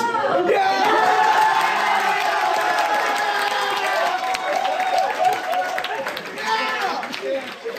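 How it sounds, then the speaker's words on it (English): A theatre audience claps, cheers and whoops as a presenter speaks, a lively crowd roar with voices over it that rises early and then tapers off unevenly toward the end. "if y'all clapping this much"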